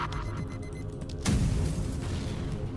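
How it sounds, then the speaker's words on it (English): An iron bomb bursts in the space video game FTL, a sudden muffled boom midway through over a steady electronic background hum. "that was an iron bomb"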